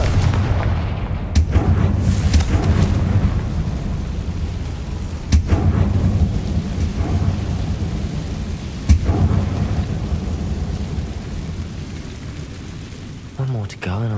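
A Confringo fire spell blasts in Hogwarts Legacy, a few sharp explosive booms standing out over a dense, rumbling battle din of thunder-like crashes and background noise.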